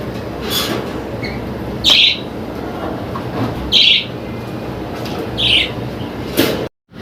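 Pet lutino birds calling indoors, sharp chirps bursting out in three or four separate bouts over a steady low rumbling background, fairly loud and close, with a short drop to silence near the end.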